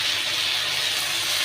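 Poppy seed paste hits fried potatoes in a hot pan for Bengali aloo posto, giving a loud, steady, close sizzle with an even hiss throughout and no talking.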